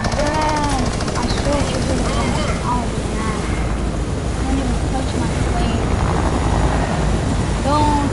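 An aircraft in the Fortnite video game drones steadily and loudly throughout, a continuous engine roar with voices faintly mixed in.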